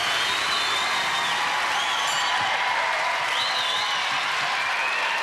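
A large television studio audience at a Gladiators semi-final cheers and applauds continuously, a dense, loud wash of clapping with whoops and whistles rising above it.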